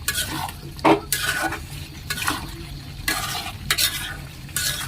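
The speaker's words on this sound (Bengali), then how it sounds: "আলু দিয়ে দিচ্ছি, জলটা একটু বাড়াই দিই।" Beef curry cooking in a pot as potatoes and water are added, with clattering stirring strokes and bursts of sizzling and frying spread through the short stretch, close by, no talking.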